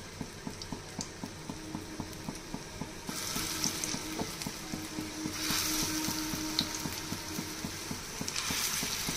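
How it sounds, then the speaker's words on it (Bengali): Banana flower fritters fry in oil in a wok with a steady sizzle, punctuated by regular clinks and stirring taps, and bursts of louder crackling come and go. "এগুলো আমি এক এক করে সব ভেজে ভেজে তুলে নেব।"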